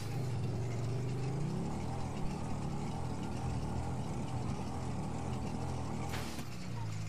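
A motorcycle engine in the video game GTA 5 Online drones steadily throughout, its pitch shifting as it revs, with a brief sharp noise near the end and no clear talk.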